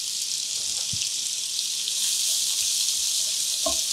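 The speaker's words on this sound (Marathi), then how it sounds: "कांदा इथे परतवून होतोय, छान सोनेरी रंगावर परतला गेला पाहिजे." Finely chopped onion with a pinch of salt fries in a pan for egg biryani, giving a steady, close hiss of sizzling oil throughout, with a few soft knocks and no talking.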